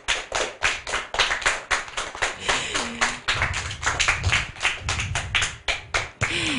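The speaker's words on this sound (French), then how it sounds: "on applaudit Enzo" An audience claps steadily in a dense burst of applause, with hand claps close and loud throughout.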